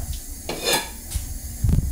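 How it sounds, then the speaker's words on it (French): A frying pan is handled on a stovetop before butter goes in for salmon, producing a few close metallic knocks and scrapes with a faint sizzle between them. "Tu prends une poêle."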